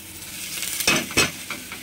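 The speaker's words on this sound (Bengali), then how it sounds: "এই যে ভাজা ভাজা হয়ে গেল, এর মধ্যে আমি এবার শাকটা দিয়ে দেবো" Greens are added to onions and spices frying in a pan, giving two sharp sizzling bursts with stirring, then a softer, steady crackle close by.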